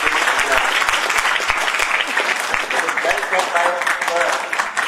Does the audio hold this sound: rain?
no